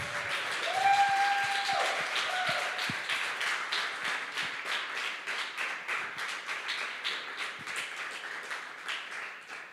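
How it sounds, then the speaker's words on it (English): At a Le Wagon coding bootcamp demo day in Madrid, an audience gives the graduates a round of applause, clapping in a rhythmic, fairly distant patter that slowly tapers off, with brief whoops at the start. "I want to bring like a big applause to them."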